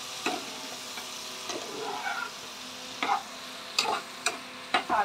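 Garlic, onion and green chili fry in a pan for butter chicken, a low sizzle broken by several sharp scrapes and stirring knocks spaced irregularly, no voices.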